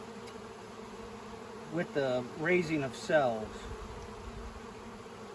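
Honeybees hum steadily around a nuc stack hive used for raising queen cells, a soft constant drone heard close by while a voice talks over it for a few seconds.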